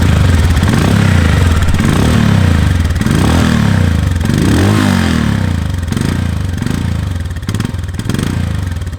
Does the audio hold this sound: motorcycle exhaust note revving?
yes